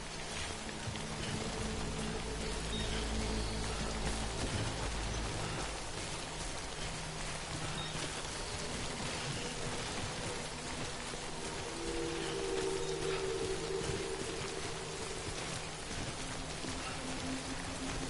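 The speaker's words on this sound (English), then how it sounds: "Good thing it was raining." Steady rain falling in Death Stranding, a dense, even hiss of drops pattering on surfaces that continues unbroken, with a low ambient hum beneath and no voices.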